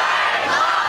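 A live audience shouts an answer together in one brief, loud burst of mixed voices.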